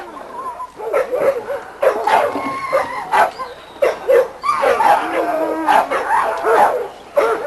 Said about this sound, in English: This is the dog we call Pecos.